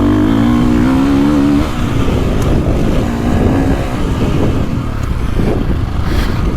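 KTM 450 SX-F Factory Edition motocross bike on a dirt track, loud engine with a steady low drone that drops off into a rough, burbling engine-braking rumble, close and continuous throughout.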